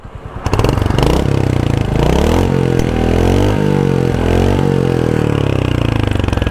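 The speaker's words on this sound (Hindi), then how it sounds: "तो ये हंटर की साउंड थी" A Royal Enfield Hunter 350 motorcycle engine thumps close and loud, idling and then revving up and down a few times with a steady, low single-cylinder beat.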